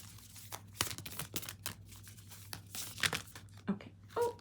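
Tarot cards are shuffled and handled up close in irregular papery riffles and crinkling flicks, with quick sharp bursts separated by short pauses and no speech.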